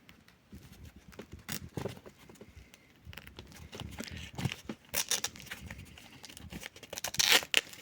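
A 1953 Soviet field dressing package is unwrapped by hand, giving sharp crinkles, tearing and rustling paper in irregular close bursts, louder toward the end.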